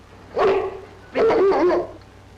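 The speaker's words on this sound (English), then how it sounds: "Hey, look, a dog." A big dog barks twice in drawn-out, yelping bursts, close and loud, in an old radio-style drama set in the snowy Yukon wilderness.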